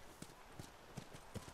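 Horse hooves clip-clop at a steady trot in The Last of Us video game, a rhythmic series of soft, fairly faint hoofbeats under low background noise.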